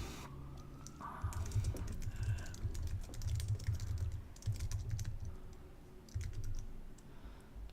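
Keys tap on a computer keyboard in quick irregular bursts with short pauses, close and fairly quiet, with no voice over them.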